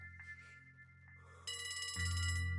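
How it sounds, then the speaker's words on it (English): A phone rings in the video game Trails From Zero, a bright electronic trilling tone that starts midway and repeats over a low background hum. "A phone call."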